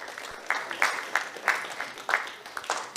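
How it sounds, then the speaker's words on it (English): Audience applause at a business breakfast meeting welcoming a speaker to the stage, bursts of clapping rising and falling across the room, moderately loud with a murmur of voices underneath. "Let's welcome him with a round of applause."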